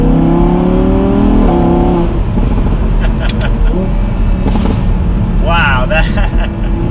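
Exhaust of an Audi R8 V10 Performance Spider roadster rising and falling through downshifts, loud and close with sharp revs, wind buffeting and someone talking over parts of it.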